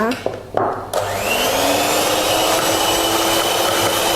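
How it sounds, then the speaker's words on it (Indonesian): Electric mixer starts up and whirs steadily in cake batter sweetened with brown sugar, a loud close continuous motor whine after a few knocks at the start. "Nah ini kita akan kocok mixer."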